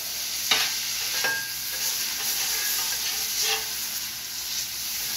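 Kielbasa sizzles in barbecue sauce on a Steelmade griddle, a steady close-up frying hiss with a few soft scrapes and clicks from stirring.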